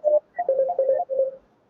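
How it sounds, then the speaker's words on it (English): Telephone lines ringing during a radio call-in broadcast, a short run of electronic warbling tones in quick bursts, fairly close and clear without talk over them. "I can hear the phone lines ringing"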